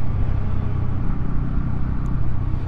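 A 2024 Bajaj Pulsar N160 motorcycle is ridden along a road at sunset, its engine giving a steady low rumble mixed with road and wind noise. The sound stays loud and continuous without clear revving peaks.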